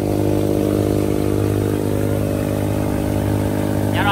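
Isuzu 93 turbo diesel engine running in a wooden boat, a loud, steady, close-up mechanical drone with a constant low hum and no change in pace.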